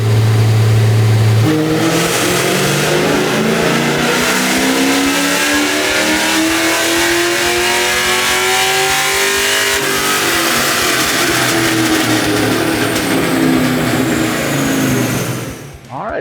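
A 2002 Ford Mustang GT with 220K miles on 93 octane is strapped to a dyno, holding a low idle before a loud full-throttle pull climbs steadily in pitch for over ten seconds, then abruptly backs off at the end.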